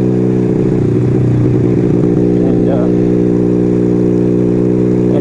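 A 1975 Kawasaki KZ400S motorcycle engine runs steadily while being ridden, a loud, continuous mid-pitched drone with slight rev fluctuations and some clatter, heard up close throughout.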